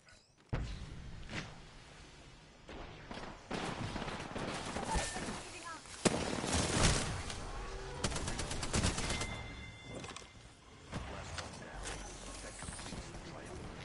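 Gunfire rattles in bursts throughout an Apex Legends match, with rapid shots from several directions at moderate loudness and a sharp louder crack near the middle; speech can be heard over parts of it.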